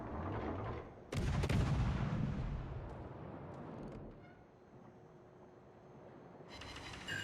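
Naval guns fire in the World of Warships video game, a booming broadband salvo near the start followed by rumbling reverberation and scattered distant impacts, with another burst at the end.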